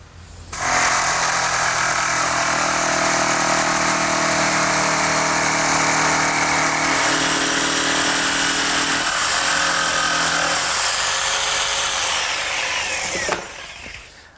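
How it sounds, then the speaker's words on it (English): A jigsaw cuts through a large wood side panel for an outdoor lidded bench, its motor buzzing loud and steady close by for about twelve seconds before stopping, with no talking. "The jigsaw will do just as good a job."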